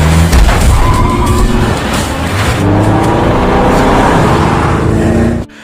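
Prison inmates racing cars that ram each other, engines roaring loud and close with revving and tyre skids for about five seconds before the noise cuts off abruptly.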